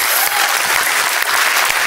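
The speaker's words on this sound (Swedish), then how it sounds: "Jag tycker vi ger dem en varm applåd." Audience gives a warm round of applause welcoming Prince Daniel and young entrepreneurs on stage at a startup event, dense continuous clapping, loud and close, with no talk over it.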